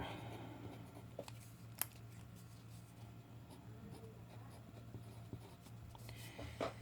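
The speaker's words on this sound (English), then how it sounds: "Let's just write rpm here." Chalk or marker scratches across a lecture-hall board in short strokes, faint and close, with a few sharp taps over a low steady room hum.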